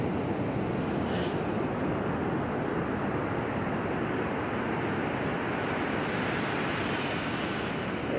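Ocean waves break on the shore in a constant loud wash of surf, with wind buffeting the microphone throughout and no voices.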